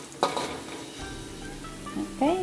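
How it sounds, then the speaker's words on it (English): Garlic and ginger sautéing in a pan for a blue crab stir fry, a steady sizzle with a few sharp utensil scrapes and clinks near the start and again at the end. "Just saute the garlic and ginger."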